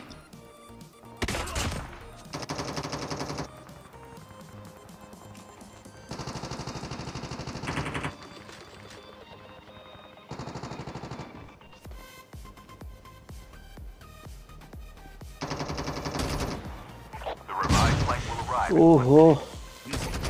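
Automatic gunfire crackles in Call of Duty Mobile gameplay, bursts of rapid shots including an AK-47 separated by gaps, with game sounds and a voice talking over part of it.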